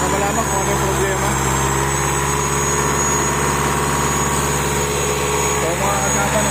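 A Mitsubishi Montero engine idles steadily with a constant hiss over a low rumble, loud and close, running alone without a break.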